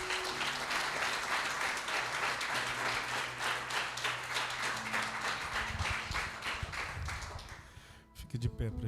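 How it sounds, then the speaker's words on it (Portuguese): A church congregation applauds during an evangelical service, a full, steady roar of clapping hands with voices and a low sustained organ or keyboard tone underneath, tapering near the end. "Aplauda o nome do Senhor."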